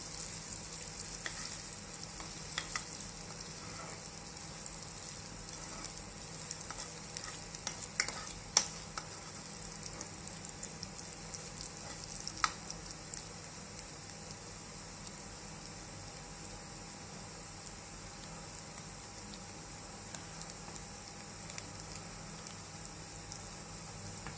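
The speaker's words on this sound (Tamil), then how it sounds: "லைட்டாக கலர் மாறுற அளவுக்கு நம்ம வறுத்துக்கலாம்" Moong dal for payasam is dry-roasted in a pan, with faint, continuous scraping and rustling as it is stirred. Soft, irregular clicks of spoon against metal recur over a quiet background, with no voices.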